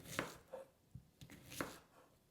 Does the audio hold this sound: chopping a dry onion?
yes